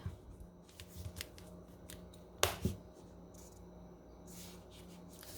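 A portable four-panel 25000mAh solar charger being folded up and clasped shut, heard as soft close rustling and handling with one sharp snap of the clasp midway, followed by a smaller click.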